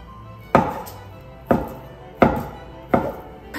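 A knife cuts meat into large chunks for curry on a board, four sharp, close chops spaced about a second apart, each with a quick decay and no voices.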